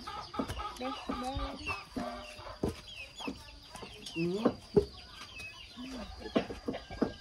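Chicks peep and cheep close by in a farmyard with clucking hens, quick high chirps scattered over the whole stretch under light background noise.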